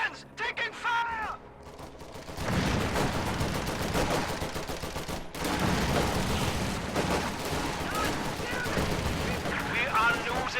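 Dense video game battle gunfire, with rapid bursts and repeated shots under overlapping urgent game voice lines, loud and continuous after a quieter opening.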